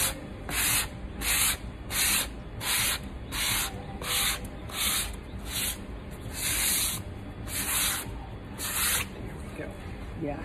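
Light hand sanding of a painted fabric settee with 800–1000 grit paper: a steady run of about a dozen soft, rhythmic rasping strokes, close and fairly quiet, with brief pauses between passes.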